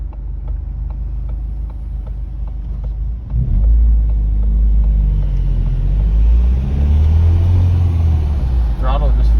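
Ford Fiesta ST on a drive: steady low engine rumble that deepens and swells as the car pulls away and speeds up, heard from inside the cabin.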